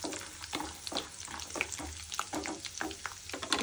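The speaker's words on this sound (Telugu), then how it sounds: "ఇవి వేగుతూ ఉంటాయండి." Cashews frying in hot oil for lemon rice, giving a continuous close crackling sizzle with repeated quick spatters and pops and no voices.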